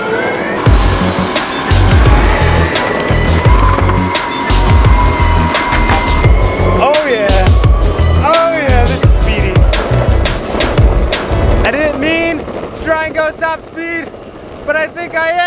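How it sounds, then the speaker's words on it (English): A cheap Boosted Board clone electric skateboard launches in high plus mode, its motor whine and wheel roar loud and close as it accelerates hard, with a rider's whoops and talk breaking in over the rising whir. "Right now I have the board set to high plus mode just cause I really wanna capture the amount of torque I get right at takeoff"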